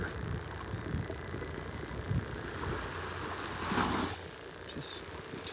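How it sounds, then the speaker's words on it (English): Tiny waves lap softly on the sandy shore at Vanderbilt Beach in North Naples on a calm morning, a low steady wash of water mixed with light wind noise. "Just the tiniest of waves lapping on the shore here."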